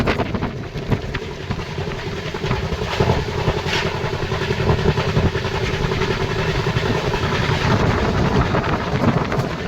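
A train running through a station without stopping in the evening, heard from on board as a loud, steady rolling rumble with wheel clatter and rushing wind lasting the whole stretch, no voices.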